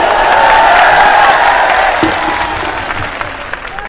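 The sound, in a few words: audience applause at a speech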